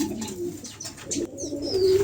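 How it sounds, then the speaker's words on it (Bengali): Baby red Potter pigeons coo in low, soft rolling tones close by, a steady murmur running through the whole short stretch with faint chirps above and no talking. "এখানে একজোড়া লাল পোটারের বেবি আছে দেখেন মার্শাল্লাহ দুটা কবুতরই খুবই চমৎকার"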